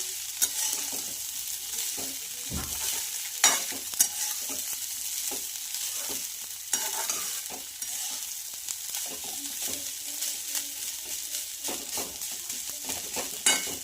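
Egg fried rice stirred and fried in a pan: a spatula scrapes and clinks against the metal again and again over a soft, steady sizzle, close up, with no voices.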